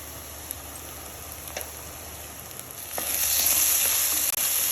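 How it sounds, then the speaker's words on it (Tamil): Fish curry ingredients sauté in sesame oil, a continuous close frying hiss that swells much louder and brighter partway through, with a few light utensil taps. "நல்லா வதக்கிடலாங்க."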